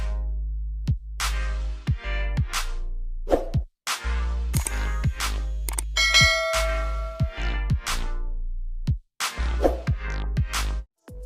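A bright bell chime rings out as a notification sound, with several loud struck tones and ringing overtones sounding alone, spaced irregularly across the passage.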